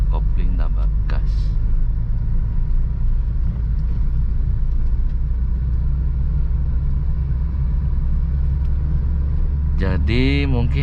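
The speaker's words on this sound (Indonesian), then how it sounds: "masuk gigi 2, lepas kopling, tambah gas." A manual car shifts into second gear and accelerates, a steady low engine and road rumble from inside the cabin, with a brief rising rev near the end.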